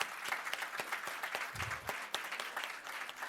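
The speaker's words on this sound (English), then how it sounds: "Please join me in giving them a round of applause" An audience at a cybersecurity conference panel claps steadily for the panelists, a dense, fairly faint patter of applause heard from a distance, with no voices over it.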